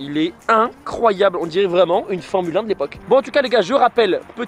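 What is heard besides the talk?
No everyday noise stands out behind the speech.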